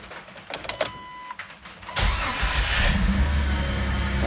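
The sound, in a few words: Jeep Wrangler TJ engine starting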